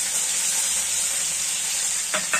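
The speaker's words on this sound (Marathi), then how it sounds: "आपली फोडणी तयार होत आहे।" Onion and chilli tempering sizzles in a hot pan with a steady, close hiss that runs without a break, with a light utensil clink near the end.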